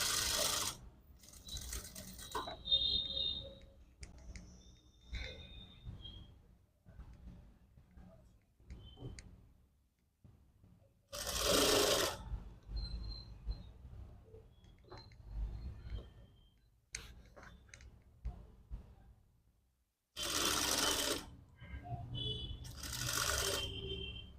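A sewing machine stitching a puff sleeve on net fabric for a 32-inch princess-style dress runs in a few short, loud bursts of rapid stitching. Quieter clicks and handling noises fill the gaps, and someone speaks softly between the bursts.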